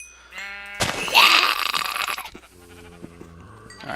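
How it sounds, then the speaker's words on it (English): Sheep in the Minecraft video game let out a loud, close bleat followed by a shorter, fainter one, with a sharp game hit sound in between and no talk. "Also, there are tons of sheep."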